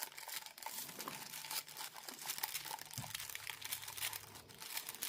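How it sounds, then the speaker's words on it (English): Paper torn off along an edge while making altered playing cards, a close, crinkly ripping and crumpling that runs in uneven bursts for several seconds with no talking. "we're just going to tear this off here"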